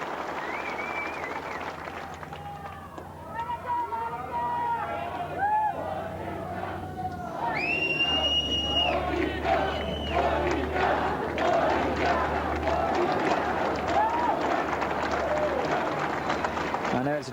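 Tennis crowd at the 1995 Canadian Open match between Seles and Coetzer roars and shouts continuously, a dense sustained mass of cheering voices with scattered whistles and calls.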